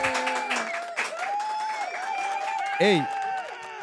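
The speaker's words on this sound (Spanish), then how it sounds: "vamos a ver si me le dan un aplauso, por favor, pero a lo grande" A talk-show audience applauds and cheers as a guest arrives, with a thick crowd roar and excited voices rising over it, briefly peaking near the end.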